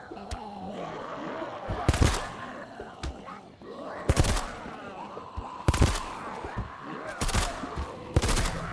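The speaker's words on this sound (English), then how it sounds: "Gunfire will mess up your walls." Bursts of gunfire crack out repeatedly at uneven intervals over a busy background of game sounds and murmured voices.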